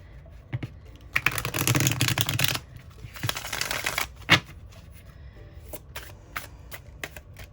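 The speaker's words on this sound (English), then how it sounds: "let's get these cards shuffled" Tarot cards being shuffled in quick riffling bursts, with crisp flicking and tapping between, close up and fairly quiet.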